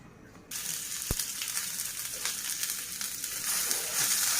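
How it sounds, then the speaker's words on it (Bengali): Dried chilies frying in mustard oil in a home kitchen: a steady, close sizzle with crackling hiss that starts abruptly and keeps going, with one soft knock early on. "আমি একটু সরষের তেল দিয়ে ঝালগুলো একটু ভেজে নেব"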